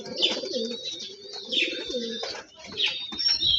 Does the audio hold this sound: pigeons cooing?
yes